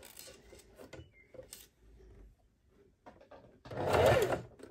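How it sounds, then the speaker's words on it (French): A sewing machine stitches a straight seam on a tote bag with a backstitch, sounding as short, quiet stop-start bursts and then one loud, close run of rapid stitching near the end. "on va faire un point avant-arrière au début et à la fin pour bien fixer notre couture"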